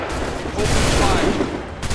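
Musket volley from a line of soldiers in Assassin's Creed 3, a dense rumbling burst of simultaneous gunfire that swells midway and trails off, with a voice faintly present underneath.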